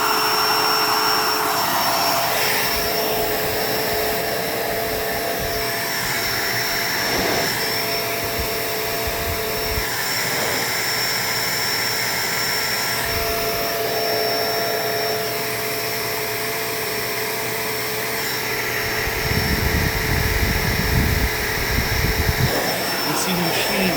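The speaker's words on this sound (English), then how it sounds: "See, the machine pulls the carpet fibers up because it has so much airflow and suction power." Bissell Pet Hair Eraser Turbo upright vacuum cleaner running on carpet, a loud continuous whine and roar throughout with low bumps as the machine is pushed, growing rougher near the end.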